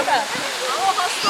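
A waterfall at a hot spring rushes in a steady, loud broadband roar that fills the whole moment, with a splashing, gurgling texture and no break.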